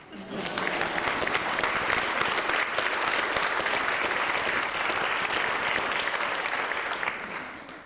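An audience at a 2001 school foundation event bursts into dense, steady applause that swells quickly and holds for several seconds before tapering off.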